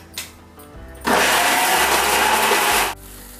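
A mixer grinder whirs loudly and steadily for about two seconds as it grinds guava chutney, then cuts off, with a faint thump just before it starts.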